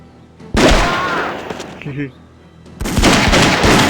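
Gunshots in the X-Files video game, a loud sharp burst that rings on for a couple of seconds, a short lull with a brief tonal game sound, then another heavy volley of blasts.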